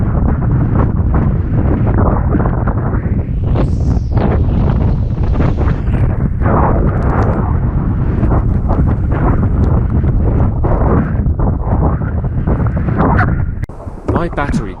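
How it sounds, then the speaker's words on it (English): Strong gusting wind roars across the microphone at sea during foil surfing, loud and continuous with heavy low buffeting, and water splashes mixed in before it drops off at the end. "the wind started getting too strong, which was going to make me lose my balance"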